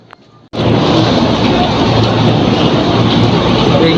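A commuter train at a station roars in suddenly after a brief quiet moment, then holds a loud, close, steady rumble and rush that fills the rest of the clip.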